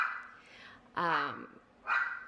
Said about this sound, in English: it's another dog outside walking